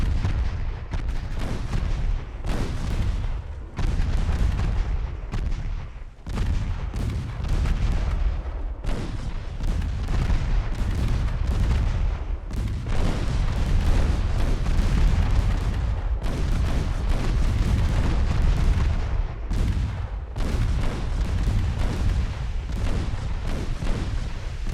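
Warship main guns firing in Ultimate Admiral Dreadnoughts during a naval battle, a steady barrage of heavy booming artillery salvos with brief pauses between volleys, loud and continuous with no talking.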